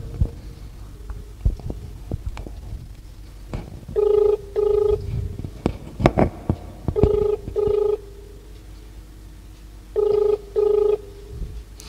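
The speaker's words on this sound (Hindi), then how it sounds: "वो रिंग का आवाज सुनना है मेरे को।" An outgoing phone call: a short burst of dialing tones gives way to a repeated ring-back tone in paired pulses, three pairs spaced a few seconds apart, over faint background clatter and thumps.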